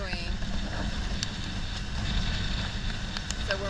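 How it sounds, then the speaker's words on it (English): A sailboat motor sailing on the Intracoastal Waterway gives a steady low engine rumble mixed with wind buffeting and water noise, fairly quiet, with a person talking over it. "So we're motor sailing."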